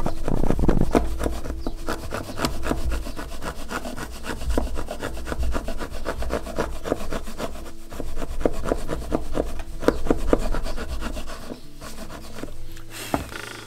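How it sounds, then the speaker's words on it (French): A wood chisel working on wood in a small outdoor quail-house build, with rapid rasping, scraping strokes and sharp knocks in a steady, close, uneven rhythm. "un coup de ciseau à bois."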